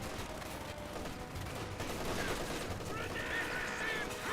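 Battle gunfire from Company of Heroes 2, with a frag grenade going off among rapid, dense shots that run continuously under faint background voices.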